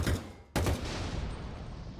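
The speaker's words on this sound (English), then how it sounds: "is that a bad explosion sound, or should I add the reach one?" An explosion sound effect from a Halo Wars mod plays as two sharp blasts with a brief gap between them, the second trailing off into a long rumbling decay, loud and close with no talk.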